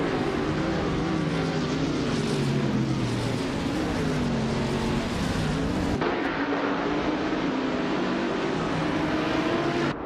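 Several racing engines drone together at close range in a steady, continuous roar, the pitch rising and falling as cars overtake during a race, with a sharp shift in tone around the midpoint.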